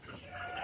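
Hens on a Brazilian farm raised for eggs cluck briefly and faintly, a short low murmur with no talk over it.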